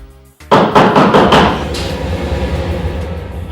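A fist pounds hard on a door in a Nollywood drama, striking four or five loud, resonant blows in quick succession that ring on into a hollow tail.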